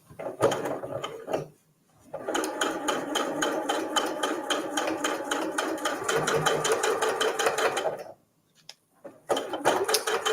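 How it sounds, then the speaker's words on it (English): A sewing machine stitches a cotton mug cozy along drawn lines with cotton thread, running in a fast rapid chatter for several seconds, stopping briefly, then starting again, close and clear with no talking. "Bring my machine in, and I'm just going to stitch over these lines that I've drawn."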